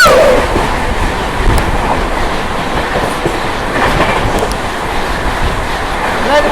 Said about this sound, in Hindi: राजेंद्र नगर पटना से चल के दिल्ली को जाने वाली पटना तेजस राजधानी एक्सप्रेस